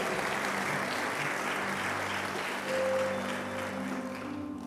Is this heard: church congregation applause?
yes